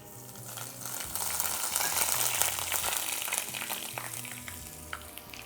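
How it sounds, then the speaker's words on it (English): Oil sizzles and crackles in a shallow pan as hot peanut oil fries a Tex-Mex style chili oil, a steady hiss with scattered pops, fairly quiet and with no talking. "basically we're frying here in this shallow pan"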